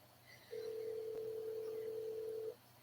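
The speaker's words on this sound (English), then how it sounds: "It's ringing" A phone call rings out with a single steady ringback tone lasting about two seconds, faint and alone.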